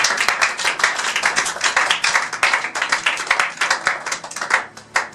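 A church congregation claps together in praise, dense rhythmic hand claps filling the room steadily and loudly, with no speech over them.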